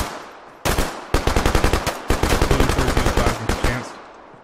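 Loud, close bursts of rapid automatic gunfire from a first-person shooter video game, laying down suppressing fire in several quick strings of evenly spaced shots with brief pauses between them.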